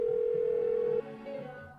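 A phone call goes unanswered in a horror mystery video game, a steady electronic ringback tone holding for about a second, then a softer repeat of the tone over a low background hum.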